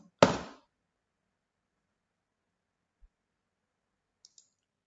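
A single sharp computer mouse click sounds near and alone in an otherwise quiet room, followed only by a couple of faint tiny ticks.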